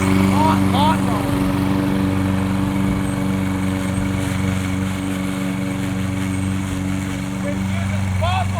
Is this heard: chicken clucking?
no